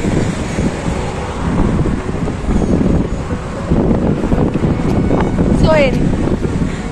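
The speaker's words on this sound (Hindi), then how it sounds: "बहुत ज़्यादा हवाएं आ रही है" Strong gusty wind at the Colaba Causeway market area roars steadily across the microphone, buffeting continuously for several seconds, with a voice faintly present in the background.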